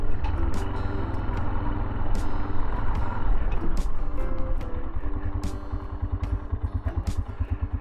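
A Tekken 250 motorcycle rides along a rough field road through farmland in Podillia, Ukraine, its engine droning loud and steady throughout with some rattling and clatter from the bumpy ground.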